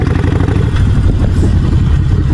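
A motorcycle engine runs close by on the road, a loud, steady mid-pitched rumble with a slight clatter over a couple of seconds, no speech.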